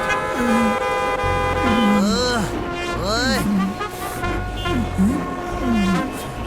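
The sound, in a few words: vehicle horn honking in a cartoon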